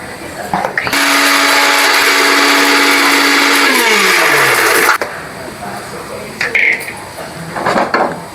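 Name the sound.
mixer grinder grinding turmeric and fenugreek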